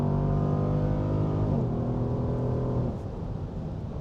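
A Dodge Durango SUV engine, SRT Hellcat or R/T 392, roars loud and close while accelerating on a track. A harmonic drone climbs, then drops sharply at an upshift and pulls on before easing off near the end.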